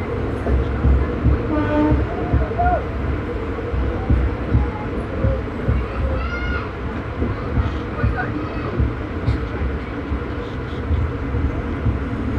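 Two passenger trains passing each other, one the Shahdol–Nagpur Express, heard as a continuous loud rumble and rattle of wheels and carriages, with horn-like tones near the start and faint voices beneath.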